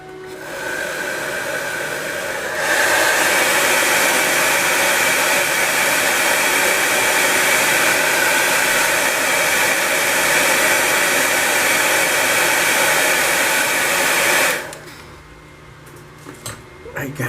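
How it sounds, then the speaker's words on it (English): A hair dryer blows loudly and steadily for about twelve seconds, drying paint on a scale model, a constant airy whir, then cuts off, leaving quieter room sounds. "let me use the air dryer and see the color"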